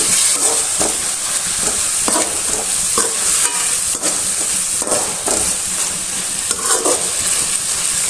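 Prawn sukka masala with turmeric and salt sizzles and fries loudly in a pan, with a steady hiss and repeated scraping strokes as it is stirred.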